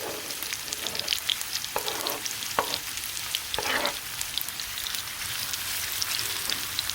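Onions and garlic sizzling over medium-low heat in a pan for Jamaican salt mackerel, a continuous crackling fry broken by several sharp stirring clacks, close and alone.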